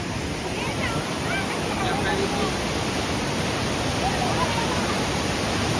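Loud, constant rushing water roars without a break, a broad steady wash of high water spilling at a dam nearby.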